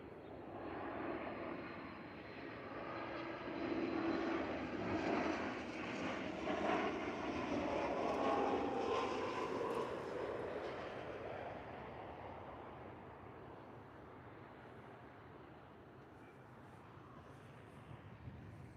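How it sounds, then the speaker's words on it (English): A Ryanair airliner at Liverpool Airport gives a broad, steady engine roar that swells in the middle and slowly fades, heard at a distance with no talking. "I'm going to spin round for this Ryanair now"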